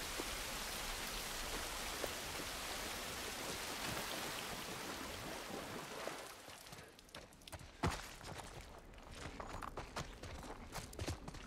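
Steady hiss of rain in The Last of Us Part 1 that thins out after several seconds, leaving scattered drips and light taps.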